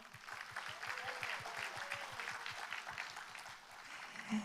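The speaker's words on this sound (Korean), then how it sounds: "우리 학생들에게 응원의 박수 보내주십시오." An audience at a bio industry expo applauds students, a fairly faint, even spatter of clapping heard at a distance, with a steady low rhythmic thumping underneath.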